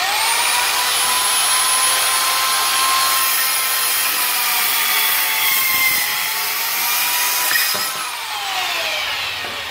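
A Worx WX423 compact electric disc saw cuts through fairly thick wood, giving a loud, steady high-pitched motor whine and grinding rasp that runs the whole time and shifts pitch slightly near the end.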